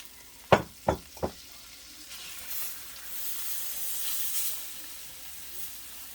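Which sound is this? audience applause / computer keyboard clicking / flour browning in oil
flour browning in oil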